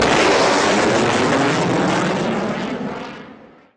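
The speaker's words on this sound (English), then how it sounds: "From crop dusters to military planes, our skies are buzzing constantly with activity." A low-flying aircraft passes overhead in the Yuma area, a loud broad propeller-engine roar that holds strong for a few seconds and then fades away.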